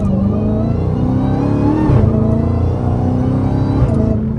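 A Dodge Hellcat Redeye's engine revs on the street, loud and close, its deep rumbling tone rising and falling through a couple of throttle blips.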